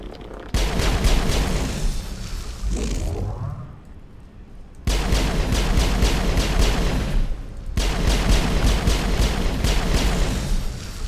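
Sniper rifle fire in Mass Effect comes as long stretches of loud, dense crackling gunfire and booms, broken by a short lull with a whooshing sweep, all close and without talk.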